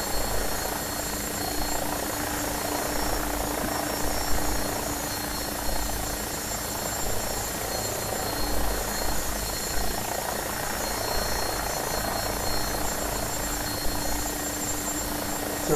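AgustaWestland AW109SP helicopter engine and rotor in a flight simulator during an automatic take-off, a loud continuous turbine whine and rotor roar holding steady without talk.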